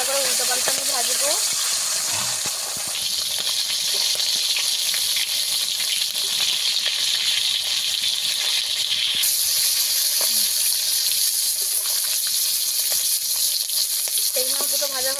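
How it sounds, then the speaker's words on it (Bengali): Fish heads frying in hot oil, a steady close sizzle and hiss running throughout with occasional stirring or turning, under brief talk at the start and end. "মাথাটাকে ভালো করে উল্টো পাল্টে আমি ভাজবো।"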